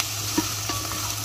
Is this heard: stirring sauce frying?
yes